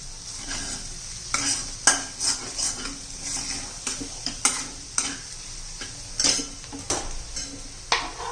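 A spoon scrapes and clinks against a pan while stirring a sizzling keema mixture, with irregular close metallic taps over a low, continuous frying hiss.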